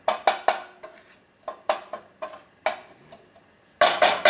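Wooden spoon clacking and scraping inside a pot of Italian meat sauce for lasagna, a series of sharp, close knocks in an irregular rhythm with a louder flurry of clatter at the end, no talking.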